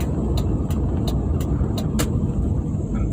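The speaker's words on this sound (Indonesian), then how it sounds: "Dan kita bertemu mobil-mobil bus malam besar." Large night buses rumble along a road on the outskirts of Makale, Tana Toraja, with a heavy, continuous low-frequency engine drone close by and a series of short, sharp clicks repeating over it.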